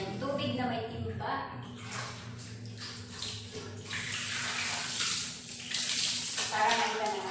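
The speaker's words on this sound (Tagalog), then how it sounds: "Ayan, tubig na may timba." Water splashes and pours into a bucket (timba) during a cold-water bathing session, a steady broadband wash running under a person talking over it.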